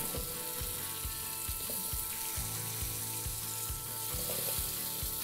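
Onions and carrots frying in oil in a pan: a dense, continuous sizzle under a low rhythmic thumping hum, with no voices.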